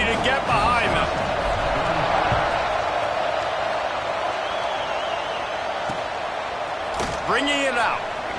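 A Penn State football stadium crowd keeps up a steady, dense roar before kickoff, heard as a constant wash of noise under a commentator's talk.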